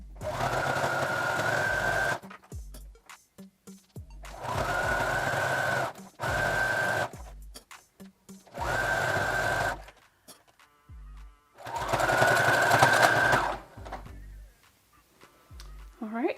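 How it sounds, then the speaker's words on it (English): A sewing machine runs a zigzag stitch around a summer tank top, its steady mechanical whir coming in four bursts of about two seconds each, separated by short pauses with small handling clicks. "I'm just going to do a zigzag stitch all the way around."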